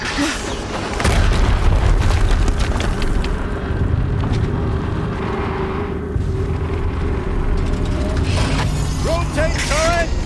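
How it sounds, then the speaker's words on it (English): Booming explosions in the video game Horizon Zero Dawn, a dense sustained roar of blasts and mechanical clatter with game sound effects layered over it, loud and continuous throughout. "Another explosion."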